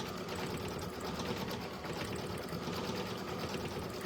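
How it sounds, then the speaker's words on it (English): An embroidery-style sewing machine stitches a stuffed toy face at a steady, continuous whirr, slowing itself below its set speed, close and even throughout with no talking. "the machine is slowing itself down. It doesn't like stitching as fast as I've got it set to"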